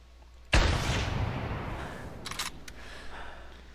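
A single hunting rifle shot in the video game theHunter, fired prone at an ibex: one sharp, loud crack followed by a long decaying rumble and a couple of faint clicks.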